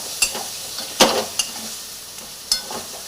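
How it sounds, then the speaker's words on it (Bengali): A yogurt mixture cooks in a pan as it is stirred, producing a soft sizzle punctuated by several crisp clinks and scrapes of a utensil against the pan. "দিয়ে এরপর একটু নেড়ে নিয়ে আমি এবার চিকেনটাকেও দিয়ে দেবো"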